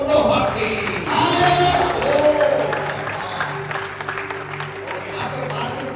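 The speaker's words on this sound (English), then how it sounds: "If you want to clap, clap with full heart, not half installments." An audience at an evangelistic meeting claps in a dense burst that fades over a few seconds, with voices and speech mixed underneath.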